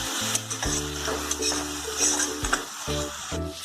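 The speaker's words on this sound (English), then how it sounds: "Add tomato puree. Fry for 2-3 minutes on medium flame." Tomato puree frying in a pan on a medium flame for a mutton kofta curry, a close steady sizzle with scraping stirs and a few light clinks against the pan.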